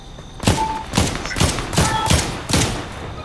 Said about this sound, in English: I'm hearing gunshots around.